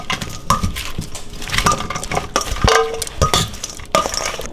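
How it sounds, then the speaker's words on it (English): Garbage salad with pepper being tossed in a bowl, with repeated scraping, clinking and crunchy rustling strokes at an uneven rhythm, close and fairly loud with no talking. "And I'm gonna just mix it up like this."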